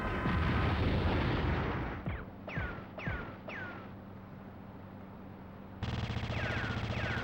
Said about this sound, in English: Just shoot it with your rocket launcher, gamer.